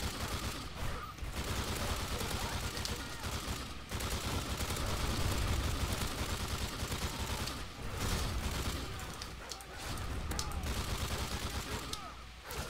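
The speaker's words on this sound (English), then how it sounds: "Just randomly shoot and clear the air." Sustained gunfire from a first-person shooter game, Battlefield-style, with dense rapid bursts and explosions running loud and continuous throughout, with a voice speaking faintly underneath.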